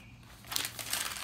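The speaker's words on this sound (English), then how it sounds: "crumple it up" A sheet of white paper is crumpled into a ball by hand. After a quiet start, a few close, crisp crinkling bursts follow in quick succession.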